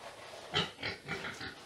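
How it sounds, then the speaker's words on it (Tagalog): Pigs, including pregnant sows, on a farm grunt and oink in several short, rough bursts, close by and fairly quiet, with no talk over them. "So ito yung ating mga baboy."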